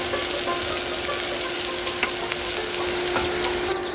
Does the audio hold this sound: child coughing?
no